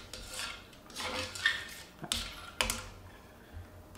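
Utensil scraping and clinking against a skillet while carbonara sauce is stirred into bacon and onion, a few sharp clanks over soft sizzling and scraping, close and alone.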